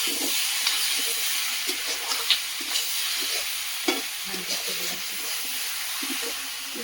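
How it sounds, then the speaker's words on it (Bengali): Country chicken meat stir-frying in a pan over a wood fire, with a constant bright sizzle and repeated scraping stirs and clinks of the utensil against the pan. "হালকা একটু জল দিয়ে কষিয়ে নেবো ভালো করে মাংসটা"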